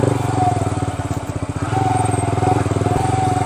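A motorcycle engine idles steadily up close with a low, chugging pulse throughout.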